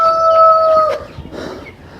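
A rooster's drawn-out call rings out close by, then breaks off into softer scratchy farmyard rustling.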